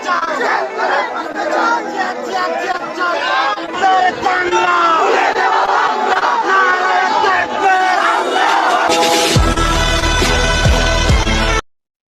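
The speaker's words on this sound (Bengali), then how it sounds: "আমাদের বিজেপি সাহস ফিরে পেয়েছিল এই নারায়ে তাকবীর স্লোগানের মাধ্যমে" A large crowd at a street rally shouts the slogan Nara-e-Takbir over and over in loud massed chanting. A harsh burst of noise near the end cuts it off.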